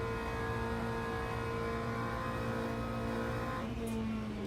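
A hypercar in the racing game Le Mans Ultimate at Spa-Francorchamps, a steady high engine whine of sim racing cars heard from the cockpit, dense and continuous, with a brief change near the end.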